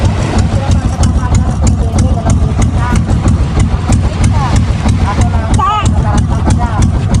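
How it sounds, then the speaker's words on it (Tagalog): Boat engines drone loudly and continuously, a heavy mechanical hum with voices talking over it throughout. "tumandar ng mga bangka"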